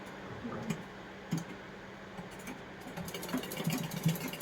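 A sewing machine stitches a belt onto a petticoat with soft, faint mechanical ticking and whirring. The stitching comes in short bursts with pauses between them, heard up close in a quiet room.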